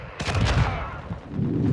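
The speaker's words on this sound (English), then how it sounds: "Hostile mortar strike incoming." A mortar strike lands in Call of Duty: Modern Warfare II. A sharp close blast at the start is followed by a rumbling, rolling tail and further low booms.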